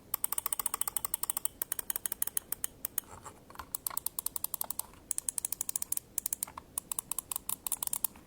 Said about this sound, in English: The main clicks are going to be the Omron opticals.